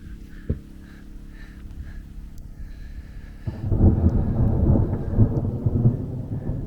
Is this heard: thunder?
yes